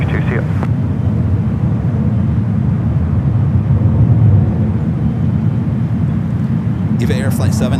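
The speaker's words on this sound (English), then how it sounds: "EVA Air Flight 7 heading back to Taipei in the 777 at 300 ER." EVA Air Boeing 777-300ER departing San Francisco airport, a loud, steady low jet roar holding throughout with wind buffeting the microphone, and a brief hiss of other noise at the start and end.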